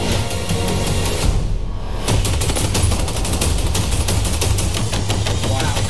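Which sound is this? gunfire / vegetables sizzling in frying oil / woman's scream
gunfire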